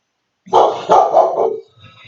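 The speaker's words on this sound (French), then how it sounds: "c'était mon chien qui a entendu un autre chien aboyer" A dog reacting to another dog's barking barks in a quick run of loud, close barks, followed by a softer, faint whimper at the end; no one speaks.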